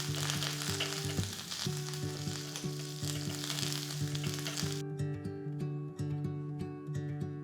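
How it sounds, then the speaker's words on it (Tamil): Curry leaves frying in hot oil for kara boondi, a loud, dense, close sizzle with crackling pops that continues throughout, the hiss thinning partway through while the crackle goes on, with no talking. "கொஞ்சம் கருவேப்பிலையும் போட்டுக்கலாம்"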